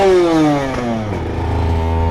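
A custom Aprilia RS125 two-stroke motorcycle, running rich and poorly adjusted, drones loudly close by while riding, its pitch sliding down and then holding low and uneven.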